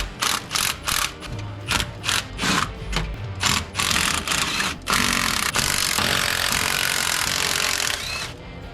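On an LS1 engine, a ratchet wrench loosens cylinder head bolts, clicking in rapid bursts of repeated strokes, then switching to a continuous, close, loud mechanical whirring as a bolt spins out.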